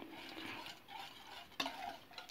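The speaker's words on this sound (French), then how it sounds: "Mélangez bien." Cream being stirred in a saucepan for an orange cake, a soft continuous scraping swirl with one sharper clink of the utensil against the pan, quiet and close, no voices.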